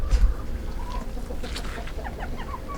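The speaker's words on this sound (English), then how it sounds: "He's my favorite rooster." A backyard rooster with orange, red and white plumage clucks in short soft bursts over steady farmyard background noise, with a few higher bird calls scattered through.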